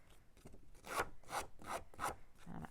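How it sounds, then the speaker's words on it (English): Snips cutting and roughening the edges of paper card for a layered handmade card, heard as four or five close, rhythmic rasping snips in a quiet room, each a short scratchy burst. "we're going to take our snips and we're going to distress the edges of this"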